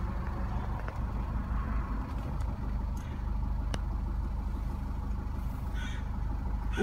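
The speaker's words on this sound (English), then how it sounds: "We'll just start the vehicle up." A used car's engine, showing 56,900 on the mileage, runs at a steady low idle close by, with a few faint clicks and a brief rise partway through, no talk.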